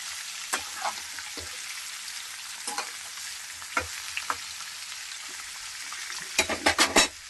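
Taro stolons (kochur loti) frying in hot oil in a pan, a steady sizzle with scattered spatula scrapes and a cluster of louder clatters toward the end.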